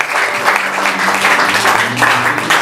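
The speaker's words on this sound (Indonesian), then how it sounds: "Mari tepuk tangan buat Tuhan Yesus." Dense applause from a church congregation at a year-end service, continuous and loud throughout, with faint voices mixed in.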